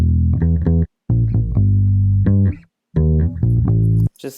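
Deep bass notes and a punchy kick drum playing a short loud electronic pattern with no sidechain compression, bass sustaining between hits with brief gaps of silence.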